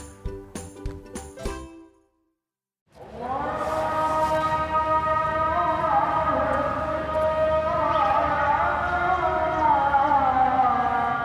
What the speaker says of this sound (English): what you're hearing there is a Muslim call to prayer